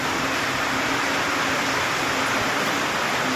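Heavy rain pours steadily in an unbroken dense roar of broadband hiss, loud and even throughout without breaks or voices.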